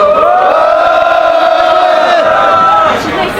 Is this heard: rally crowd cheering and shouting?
yes